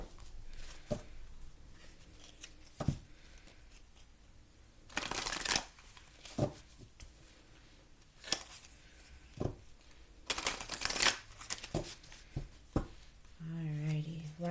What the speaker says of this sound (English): going to shuffle your cards right now